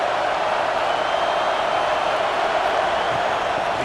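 Stadium crowd noise in the video game EA Sports College Football 26 forms a continuous, loud and even roar with no clear breaks, like a packed stand heard throughout.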